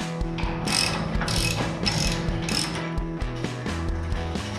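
A socket ratchet wrench works painted-over bolts on a trailer tongue extension and hitch, giving rapid continuous clicking in quick bursts, close and fairly loud throughout with no talking.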